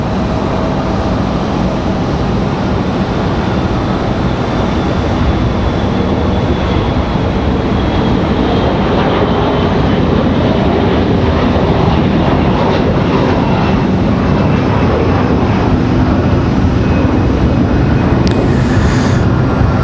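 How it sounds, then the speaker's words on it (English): A Boeing 777 airliner departs from Raleigh-Durham International Airport, producing a loud, broad, steady jet engine roar that swells slightly over time, heard from the plane-spotting area with no talk. "So, again, the 777 ready to go, headed out that way."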